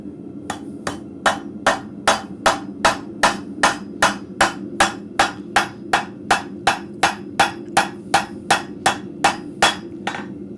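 A blacksmith hammers scrap metal to stretch it, with about twenty-five evenly spaced ringing blows close by and loud, alone in a forge.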